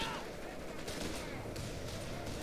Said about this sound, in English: Machine gun's holding down that middle, though.